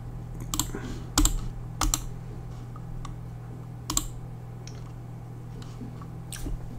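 Keys clatter in sparse, irregular clicks on a computer keyboard during a copy-and-paste of files to an SD card for a Nintendo Switch Atmosphere update, with a steady low hum beneath.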